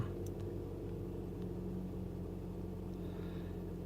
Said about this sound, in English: I had to just turn the car on and plug the shit up